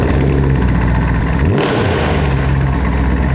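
Mercedes C-Class AMG with a 6.2-litre engine and tuned exhaust, idling loudly up close before a sharp rev blips and falls back to a deep, rumbling idle.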